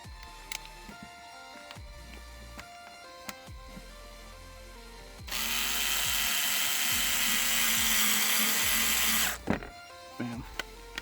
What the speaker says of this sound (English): we are just drilling into plastic here